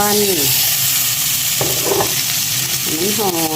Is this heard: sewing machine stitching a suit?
no